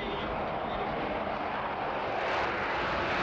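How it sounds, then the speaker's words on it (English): A Sukhoi Su-57 fighter jet taking off at an air show, a loud steady roar of jet engine noise that fills the whole stretch without letting up. "Doesn't need much takeoff roll at all."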